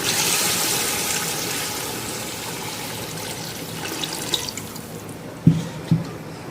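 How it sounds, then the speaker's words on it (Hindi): Water runs and splashes steadily into a cooking pot, fading gradually, followed by a few distinct clinks and drips near the end. "अब इसमें डालना है पानी।"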